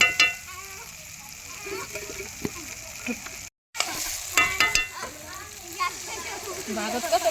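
Spice masala fries in oil on a wood-fired stove while being stirred, giving a steady crackling sizzle with scraping clatters, as people chat over the cooking throughout.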